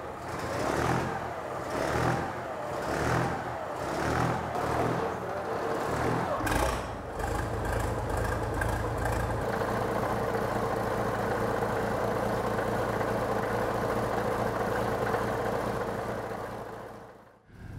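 Twin Matilda tank engines run on a test stand during a clutch test. A rhythmic, pulsing rumble at first gives way to a steady, loud, droning engine run that holds until it cuts off at the end.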